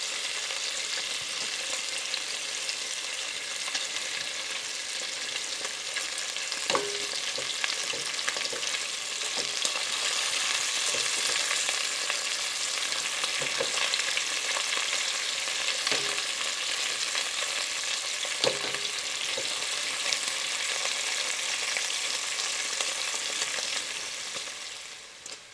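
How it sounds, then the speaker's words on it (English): Bacon strips crackle and sizzle steadily in hot oil in a pan as they brown, a dense continuous fry with scattered sharp pops and occasional clinks, close and fairly loud, with no talking. "now I'm going to turn my bacon over and brown it on the other side"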